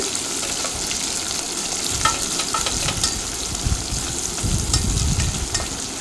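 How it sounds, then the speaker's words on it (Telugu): Sliced onions and long-cut green chillies fry in a pan with a steady, fairly loud sizzle, broken by occasional scraping stirs and soft clinks; no one speaks. "ఒక ఉల్లిపాయని పొడవుగా కోసుకోవాలి అలాగే రెండు పచ్చిమిర్చిని కూడా పొడవుగా కోసుకొని వేయించుకోవాలి ఉల్లిపాయలు బాగా వేయించుకోవాలి"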